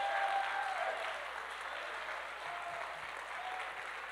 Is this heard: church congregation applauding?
yes